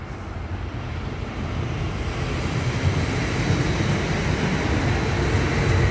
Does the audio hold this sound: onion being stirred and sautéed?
no